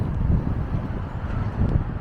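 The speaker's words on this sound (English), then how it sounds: "Gosh, it's windy." Steady low wind rumble buffets the microphone, with gusty swells and no voices, close and constant throughout.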